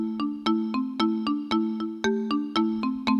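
A synthesized phone ringtone sound from a Casio LK-58 keyboard plays a repeating melody of short, evenly spaced bright tones, clear and close with no voices.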